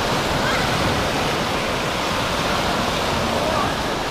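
Waves in the wave pool of the new Atlantida water park in Yalta, Crimea, make a steady, loud, broad rush of churning water with no clear breaks and no talk over it.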